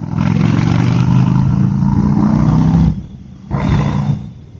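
Indian Scout 1250 V-twin motorcycle engine revving loudly and close, a deep throaty roar that cuts off briefly, then returns with a second shorter burst.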